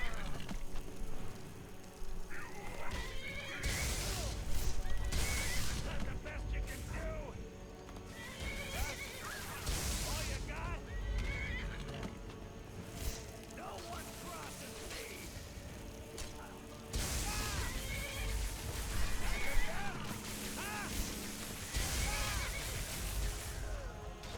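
Horse neighing and whinnying in the video game Skyrim, with clip-clop hooves on a road beside a carriage, repeated loud whinnies over a busy game soundscape with crackling and rain-like background noise.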